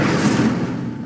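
A burst of fire from the Incendio spell in the Hogwarts Legacy game, a loud, dense whoosh that starts at full strength and fades slightly over about a second.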